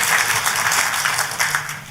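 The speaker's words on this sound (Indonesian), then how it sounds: "Tepuk tangannya yang paling meriah buat Tuhan kita" Congregation applauding in a church service, a dense steady wash of many hands clapping throughout with a little crowd noise underneath, fairly loud and close.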